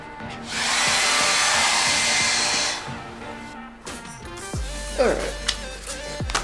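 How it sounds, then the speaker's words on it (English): A hair dryer blows with a loud, steady rushing hiss for about two seconds before switching off, followed by handling clatter and a voice speaking briefly. "I'm going to go get a hair dryer, and then I will apply my skins"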